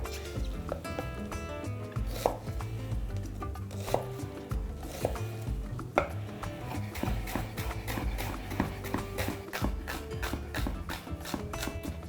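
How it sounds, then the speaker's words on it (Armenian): A knife chops small white and red onions finely on a board while a beef and potato stew is being prepared, giving steady, rapid, close knocking beats under background music. "Մանր-մունր սոխերը կտրատում ենք մանր-մունր։"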